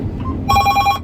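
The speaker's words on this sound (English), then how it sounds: "phone's ringing" A phone rings in the cab of a combine during a barley harvest, a bright repeating electronic trill that cuts in loudly over the steady low engine rumble.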